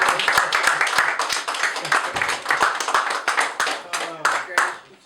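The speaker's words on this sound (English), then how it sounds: "Give him another round of applause." A small audience at a community talk claps in a loose, uneven patter of distinct hand claps with a rhythmic feel, fairly close, and a voice is heard partway through as the clapping tapers off.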